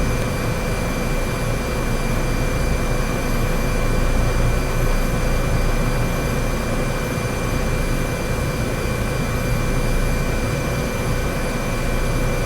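Steady, loud drone of a geared helicopter engine in Microsoft Flight Simulator 2024, a constant whine and rumble with no change in pitch throughout.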